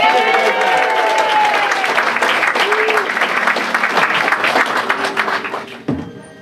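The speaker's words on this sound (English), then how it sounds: "one more round of applause" Audience applause fills a magic show at the Magic Castle, loud dense clapping sustained for several seconds before tapering off sharply near the end.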